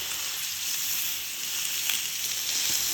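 Vegetables with egg, ginger, garlic, carrot, green chilli and spring onion fry in a pan, giving a steady bright sizzle close by with faint stirring scrapes underneath.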